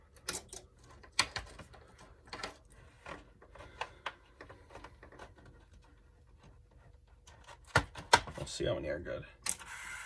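GM instrument cluster on the bench, its gauge stepper motors sweeping the needles with brief whirring, ticking mechanical bursts and a faint screech, broken up by clicks and handling noises while someone talks.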